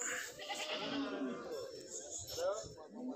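Goats bleating at the Kattupudussery livestock market, wavering calls from a few animals rising over a background of people talking, moderately near.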